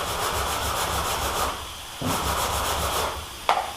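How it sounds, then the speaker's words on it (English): Sanding on a damaged autobody metal panel makes a steady, close, rhythmic scraping rub in repeated strokes, with a brief pause near the middle and a light knock near the end. "now I'm going to want to sand this just a little bit"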